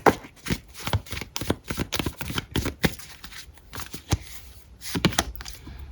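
Tarot deck being shuffled by hand, heard as a close run of quick riffling and tapping card bursts in an irregular rhythm, with no one talking.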